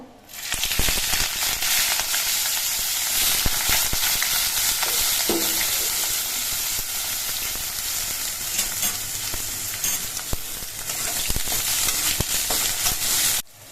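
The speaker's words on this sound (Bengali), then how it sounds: "কড়াইয়ের তেলটা বেশ ভালো মতো গরম হয়ে গেছে এবার বেগুনগুলো আমি প্রথমে ভেজে নেব" Eggplant pieces fry in hot mustard oil in a kadai, giving a loud, continuous sizzle with occasional stirring scrapes and pops throughout.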